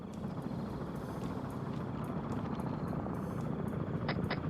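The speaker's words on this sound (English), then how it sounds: "Look at that helicopter going down over there." Helicopter in a military shooter game, a steady rotor drone and engine rumble held close and loud throughout, with faint higher clicks near the end.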